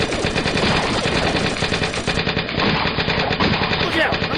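Sustained rapid gunfire fills an audio drama battle scene, a loud continuous machine-gun burst with dense rattling shots and no pauses, and a brief voice surfaces faintly near the end.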